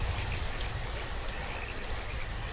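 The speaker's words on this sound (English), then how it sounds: "every time I start building something it starts pissing down with rain" Steady rainfall in the city-building game Banished, a continuous dense patter of drops with a low rumble, constant and fairly loud throughout with no voices.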